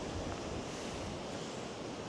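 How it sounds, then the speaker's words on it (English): Strong wind roars steadily across the microphone on a rainy coastal headland in the west of Ireland, a dense unbroken rush of noise with no voices. "It's so windy, still raining"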